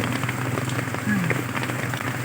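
Heavy rain falling steadily, a dense close hiss of drops hitting surfaces that fills the whole short stretch, with a voice speaking briefly over it.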